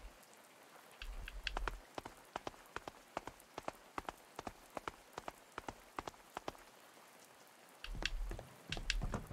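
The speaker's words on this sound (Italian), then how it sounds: "Queste piogge monzoniche." Monsoon rain in the video game A Space for the Unbound patters in scattered, irregular drops and splashes against a steady wet background, with heavier bursts near the start and end.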